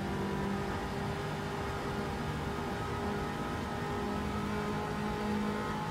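A race car engine roars down the front straight at Deep Forest in Gran Turismo 7, a steady sustained drone held at high revs, moderately quiet and continuous without any talk.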